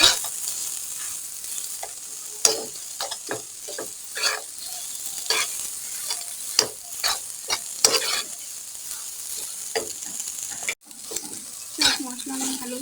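Potato filling for a sandwich is stirred with chaat masala in a frying pan, spatula scrapes and knocks repeating over a steady sizzle, close and moderately loud with no voice.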